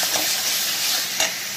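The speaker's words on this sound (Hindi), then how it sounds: "इस मसाला को हम तब तक भूनेंगे जब तक कि मसाला से तेल अलग ना होने लगे" Spiced masala paste sizzles and fries in hot oil with a steady, close crackling hiss, brief stirring scrapes rising around the middle and end.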